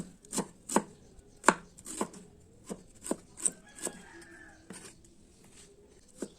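Knife chopping ginger on a board for tilapia paksiw, about a dozen crisp, evenly spaced cuts at close range with no talking.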